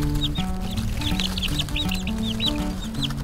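Backyard hens cluck busily and repeatedly while pecking at a handful of worms, close by and over steady background music.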